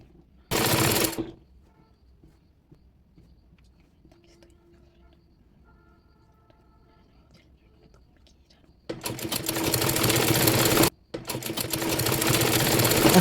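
A sewing machine stitches a gathered frill onto the body of a baby dress, giving a short loud burst near the start, then two long steady runs near the end with a brief pause between, with quiet handling and faint murmuring in the gap.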